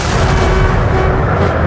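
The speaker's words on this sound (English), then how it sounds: "Napoleon ordered a barrage of his most powerful cannon." A massed artillery barrage of Napoleon's cannon at the Battle of Waterloo: loud, continuous booming and rumbling gunfire, dense and unbroken, with no voices.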